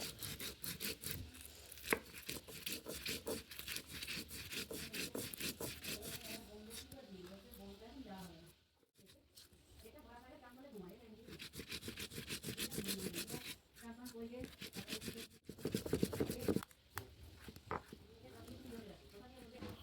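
Black mustard seeds and green chillies are ground with a little water into a paste for Bengali hilsa, making a steady rubbing, scraping grind with short pauses, close and fairly quiet.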